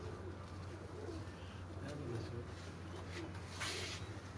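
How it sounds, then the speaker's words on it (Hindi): A female Sialkoti pigeon coos softly, low murmuring calls repeating faintly over a steady background hum, with no clear talk. "ये सियालकोटी कबूतरी है, मादा है"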